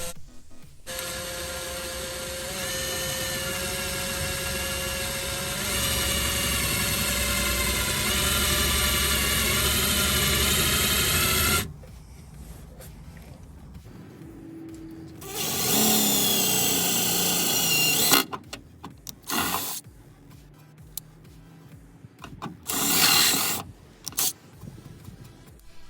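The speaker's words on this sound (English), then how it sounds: "So now I'm gonna start drilling." Power drill boring a hole through the bed of a 2012–2021 Toyota Tacoma pickup for a bed extender bracket, a steady loud whine running about twelve seconds, then shorter bursts and stops with rattling handling sounds between.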